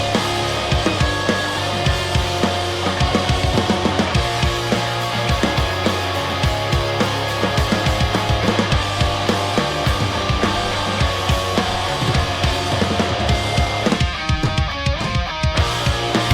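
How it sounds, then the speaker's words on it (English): A full instrumental rock track plays steadily, with bass, driving drums and layered guitars filling the sound throughout. "What you're hearing right now is this bass, some drums, and then some guitars."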